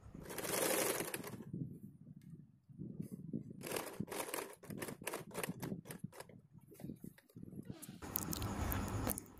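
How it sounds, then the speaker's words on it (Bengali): Sewing machine stitching piping onto a long boat-neck blouse, heard as close, uneven bursts of rattling mechanical clatter mixed with fabric handling noises, with stretches of louder rustling at the start and end. "উপরের দিক থেকে আবার আমি ঘুরিয়ে সেলাই করে নিচ্ছি।"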